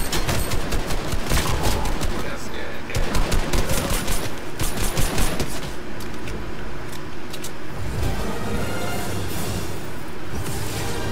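A Stark Industries energy rifle fires in a video game: dense, rapid, continuous volleys of loud, crackling shots with no pauses and no voices.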